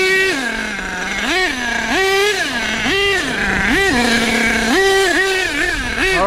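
A nitro-powered HPI Savage XL K5.9 RC truck engine runs loud and close, repeatedly revving up and dropping back to idle in rhythmic bursts with no talk over it.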